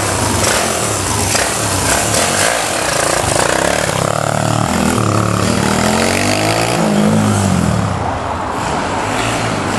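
Moto-Scoot Madass 125 scooter with a stock exhaust and 142cc big bore kit, engine revving loud and close with rising and falling whines over a continuous buzzing drone.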